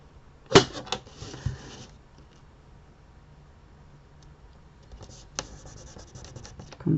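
Paper pieces being pressed and rubbed down onto a handmade Christmas card, two bursts of close scratchy rubbing separated by a quiet pause, with no talking.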